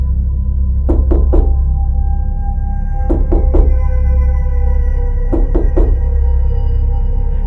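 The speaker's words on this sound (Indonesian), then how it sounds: "banyak rumah warga yang pintunya diketuk oleh sosok pocong itu" Knocking on a wooden village house door, three quick raps repeated in three separate groups, close and distinct over a low steady hum.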